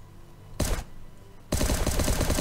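Fully modded M16 rifle fire in the survival video game Last Day on Earth: a short rapid burst, a brief pause, then a longer sustained volley of sharp automatic shots, loud and close with no talking.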